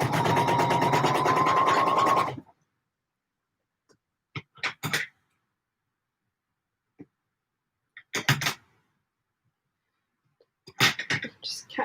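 A home sewing machine runs a steady stitching burst for about two seconds while a McCall's 7537 coat is sewn, then goes mostly quiet apart from a few short clicks and taps.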